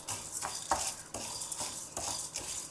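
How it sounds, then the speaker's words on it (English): Half a cup of chana dal dry roasting in a pan, stirred steadily with a spoon that scrapes and rustles the lentils in repeated sweeps, with a faint sizzle underneath, close and fairly quiet. "half a cup of chana dal, we will dry roast it till it becomes crisp and a golden color"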